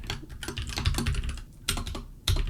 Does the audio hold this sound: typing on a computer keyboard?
yes